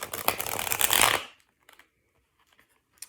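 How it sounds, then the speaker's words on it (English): A quick riffle of tarot cards being shuffled, a dense papery flutter for about a second, then near silence with a few faint soft taps. "why am I shuffling this so much?"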